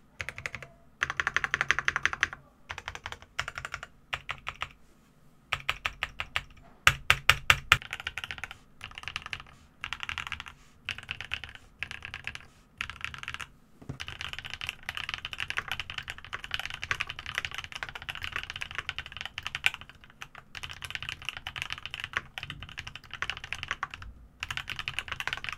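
Monsgeek M3 full-aluminum mechanical keyboard with lubed switches typing, rapid clacky keystrokes in bursts with short pauses and a few heavier thocks, close and clear without any voices.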